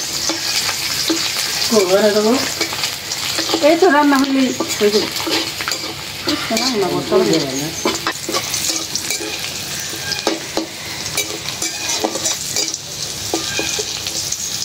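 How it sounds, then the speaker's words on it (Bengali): Garlic cloves frying in a pan, a steady close sizzle with scattered stirring clatter, while someone talks briefly over it. "এই যে এখন হলো এই রসুনের কোয়াগুলি ভাজা নিব।"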